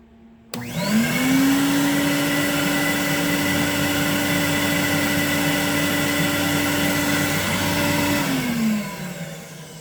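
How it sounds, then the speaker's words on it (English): A portable carpet extractor's new single 3-stage vacuum motor whines up to a loud, steady roar, runs evenly for several seconds, then spins down at the end. "I just yesterday put a brand new vacuum motor in it, and it's a single 3-stage"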